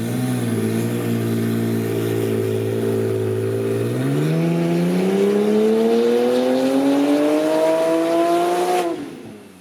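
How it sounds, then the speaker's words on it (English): A tuned Porsche 991.2 Turbo S flat-six with 68mm Pure turbos runs on a dyno, droning loudly at steady pitch before a long rising pull that climbs continuously, then abruptly cuts off near the end. "why don't we put it on the dyno, see what kind of power it's making with this setup"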